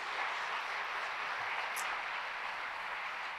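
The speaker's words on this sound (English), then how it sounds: "Oh, please don't clap for me at that point" An audience at a church talk claps in a soft, even patter, fairly distant and steady throughout, with no speech over it.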